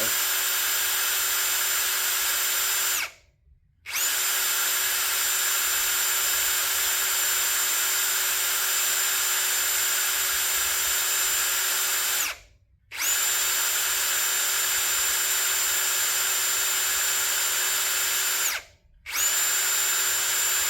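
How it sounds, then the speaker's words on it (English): A power drill runs in long, steady bursts into a VW Type 1 magnesium engine case, with three brief pauses, its whine constant and close, with no voices. "I have a mark on my drill bit, how far down to go."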